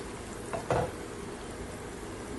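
Pieces of seelavathi fish fry in a pan with a steady, moderate sizzle, broken by a brief louder spatter as more pieces go in partway through.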